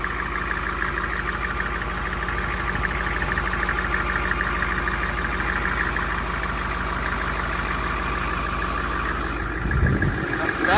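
A Ford 7.3 IDI turbo diesel in a highboy truck idles steadily and close, a low continuous rumble with a faint clatter, holding even throughout with a small rise near the end.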